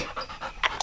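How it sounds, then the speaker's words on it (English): A dog pants rapidly in hot Oklahoma weather, a steady run of short breathy huffs close to the microphone with no talk over it. "Look at this dog."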